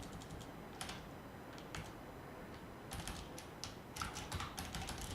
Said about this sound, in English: I can't press enter on my keyboard.